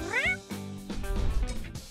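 A cartoon cat character meows in a short rising-and-falling cry near the start, followed by music and other sound effects filling the rest of the brief moment.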